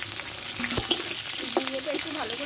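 Ridge gourd pieces tipped into a pan of frying potatoes, a sharp thump followed by a continuous oily sizzle and a few close stirring scrapes.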